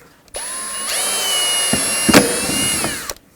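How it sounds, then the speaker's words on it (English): A power drill whines steadily at high speed for about three seconds, drilling mud flap holes in a 2005-2009 Chevy Equinox, starting and stopping abruptly, with a brief grinding bite partway through. "All right, now let's drill the other holes."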